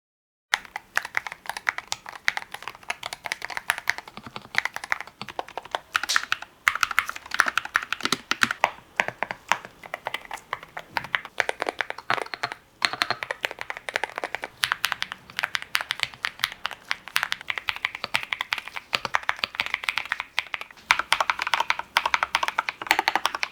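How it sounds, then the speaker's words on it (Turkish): Rapid, continuous typing on an Akko Monsgeek mechanical keyboard, crisp clacking keystrokes in quick irregular bursts, close and clear with no talking. "Şimdi her klavyenin switchleri farklı olduğundan dolayı önce bir ses testi yapalım."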